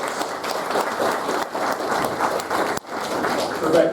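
An audience at a forum on land clearing and tree protection breaks into sustained applause: steady, dense clapping from many hands, loud and continuous, with a brief dip before it swells again.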